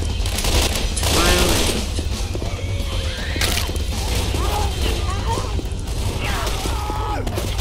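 Gunfire in Left 4 Dead 2: dense, continuous rattling shots from several weapons, mixed with shouting game characters and chaotic background noise.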